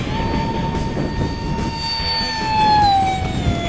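A steady high-pitched turbine whine from an ElectriFly F-20 Tigershark model jet at full throttle, loud and sustained, rising slightly near the end.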